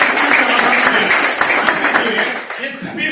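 Audience applause breaks out as a dense, loud burst of clapping that gradually thins toward the end, with voices mixed in.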